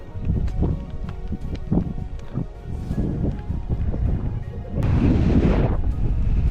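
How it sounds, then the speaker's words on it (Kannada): Heavy wind buffets the microphone with low rumbling gusts at hilltop Channarayana Durga Fort, growing to a loud roaring blast near the end, with no voices. "ಆ ಥರ ಗಾಳಿ ಬೀಸ್ತದೆ"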